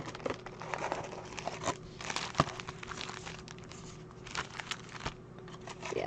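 Crinkly trading-card packs for Pokémon and Yu-Gi-Oh are shuffled by hand, giving close, quiet crackling and rustling with sharp crinkle bursts in an otherwise quiet room.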